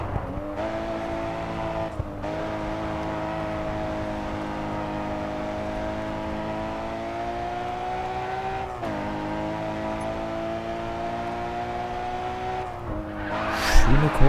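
A race car in the video game GRID 2 holds a steady, droning engine note at high speed, with shifts in pitch around gear changes and a burst of tire noise at the very end.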